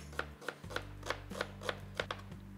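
Two medium-sized onions are chopped roughly with a knife on a board, about a dozen crisp, evenly spaced cuts in a steady rhythm over a low background hum, with no talk.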